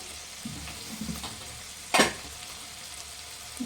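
Tomatoes cooking in a pan with salt give a steady, soft sizzle, broken by one brief, louder stirring scrape near the middle; no one speaks.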